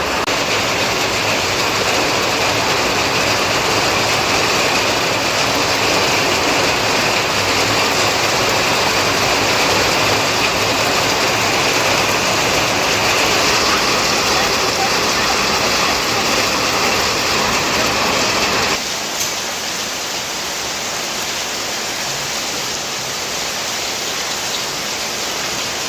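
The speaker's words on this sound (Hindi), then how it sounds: "और बारिश इतनी मोटी है और ऊपर से टीन हमने लगा रखा तो और ज़्यादा आवाज़ आ रही है।" Heavy monsoon rain hammers a tin roof in a Pahadi village home, a loud, dense, continuous roar that drops slightly in intensity near the end.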